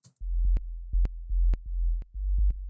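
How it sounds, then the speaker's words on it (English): A mono sine wave bass line with no unison plays on its own: deep, smooth sustained low notes in a stepping rhythm, each note starting with a soft click. It is moderately loud and there are no voices. "created a secondary bass line just with a sine wave"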